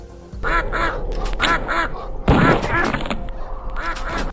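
Duck enemies in a 3DO video game quack in quick repeated bursts, loud and close, with a heavier thunk and mechanical clatter in the middle and further quacks afterward.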